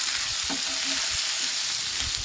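Potatoes fry in oil over a high gas flame with salt and turmeric, a steady frying hiss with a few soft stirring scrapes.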